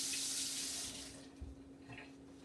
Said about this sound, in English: Give my hand a quick rinse.